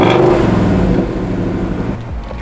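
A Ford Mustang GT with a 5.0-litre V8 roars loudly and close by in a steady, full-throated drone that eases slightly toward the end, with no talking.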